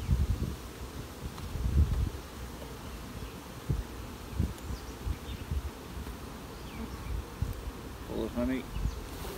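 Honeybees buzz in a low, steady hum around freshly built comb full of honey in a hive, with louder passes as individual bees fly close by.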